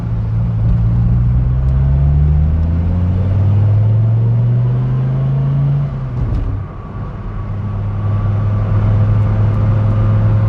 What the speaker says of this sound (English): I think it has just enough loudness to the exhaust